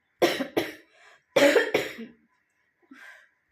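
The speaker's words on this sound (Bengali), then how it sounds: "এই কাশতে কাশতে আমার বুক পিঠ পুরো ব্যথা হয়ে যাচ্ছে" A woman coughs hard in close, harsh bursts: two quick coughs, then a pause, then two more, followed by a faint breath and a softer final cough at home.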